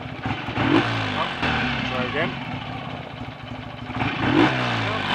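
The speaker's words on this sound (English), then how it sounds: "Now I'm going to grab the throttle quickly and hopefully snuff the engine out." A BSA A65 motorcycle engine idles loudly close by and is revved twice with quick throttle blips, each rising and falling, while someone speaks over it.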